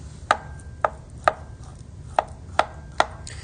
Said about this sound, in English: So let's just get a little chop.